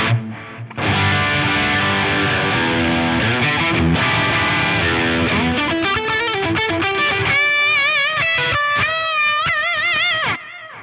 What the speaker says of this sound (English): Let's hear that with some distortion coming from the preamp pedal now and the bridge humbucker.